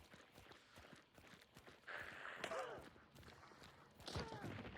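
Hooves of a video-game horse clip-clop quietly in an uneven walking rhythm, with thuds and a few soft vocal sounds mixed in.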